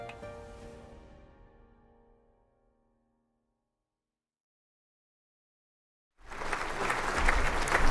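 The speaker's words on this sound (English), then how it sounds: "Yes, come on, more applause." A sustained tone fades into silence, then applause from the audience at a dental school celebration night swells in loudly and continues to build.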